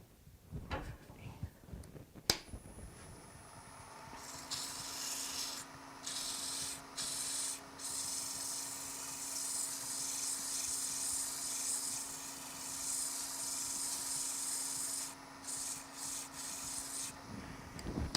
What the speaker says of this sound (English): just a little bit of hand sanding will take care of that.